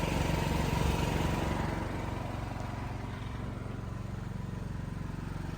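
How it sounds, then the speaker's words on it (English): An emergency power generator runs steadily during fire alarm system testing, a constant loud engine drone with a regular pulsing throb, heard alone and close. "I apologize if I'm boring you guys with the generator."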